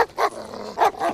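A dog barks in two short bursts, close and fairly loud, with a quieter stretch of noise between them and no talk over it.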